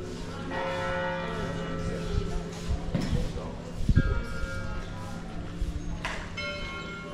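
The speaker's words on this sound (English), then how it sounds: "Oh, the church bells are ringing." Church bells ring out with sustained, overlapping tones in Orvieto, a hilltop town in Umbria, Italy, while people talk nearby and occasional clunks and knocks sound in the foreground.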